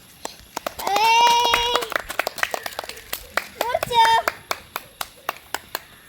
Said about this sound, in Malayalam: ക്ലാപ്പ് അടിക്കുക എല്ലാവരും